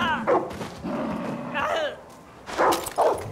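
A dog barks in the game Far Cry 6, short bursts heard in a couple of separated clusters, moderately loud against a busy game background with other noises between.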